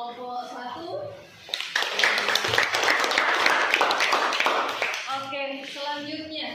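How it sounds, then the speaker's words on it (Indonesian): A classroom of students gives a student group a burst of applause lasting about three and a half seconds, with many hands clapping close by. Talking comes before and after the clapping. "mari kita beri aplaus buat kelompok 1"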